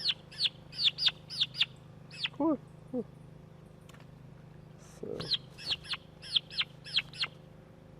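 Small backyard poultry birds give sharp, high chirps in quick bursts, a cluster of about five, a couple of lower calls, then another run of about six, close and clear over a steady low hum, with a brief word spoken.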